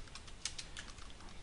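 Quick keystrokes clatter on a computer keyboard while a chart title is typed into spreadsheet software, a steady close run of light clicks with no voices.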